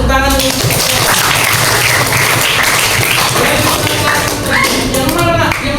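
Children clapping their hands in a religious education class, a loud, busy patter of many hands, close and sustained, with voices calling out over it.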